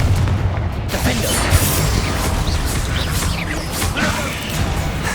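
Confringo blasting spells exploding in Hogwarts Legacy combat, a dense, continuous barrage of booming, crashing impacts with sharp bursts layered over a steady roar, loud and close throughout.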